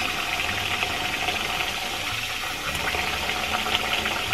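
Warm water runs steadily from a tap into a sink to rinse washed mohair fleece, a constant close hiss with a faint low rumble underneath.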